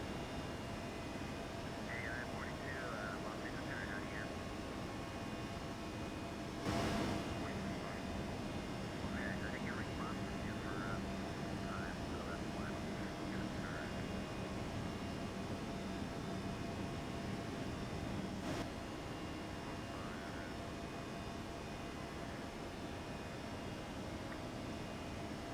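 ToLiss A320 CEO airliner in the X-Plane 12 simulator taking off from Las Vegas, its steady jet engine roar continuous and loud throughout, with a couple of brief thumps and faint tonal chirps over the drone.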